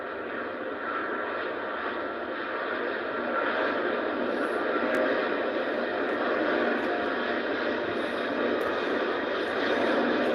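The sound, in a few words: Boeing 777 jet taking off at Heathrow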